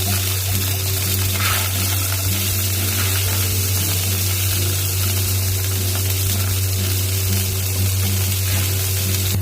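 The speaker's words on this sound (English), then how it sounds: "This is heated. Adding oil in the pan. Adding onion." Onion frying in hot oil in a pan, a steady loud sizzle under a constant low hum, continuous with no talk.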